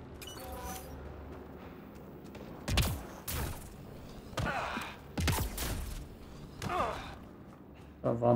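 Several sharp gunshot bursts from the video game Mass Effect Andromeda ring out at irregular intervals against a quiet hum, each a brief, echoing crack.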